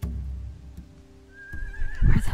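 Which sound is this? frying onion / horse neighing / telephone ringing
horse neighing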